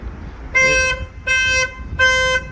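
A Smart car's alarm sounds in three evenly spaced, loud tonal horn blasts, each about half a second long, with short pauses between them.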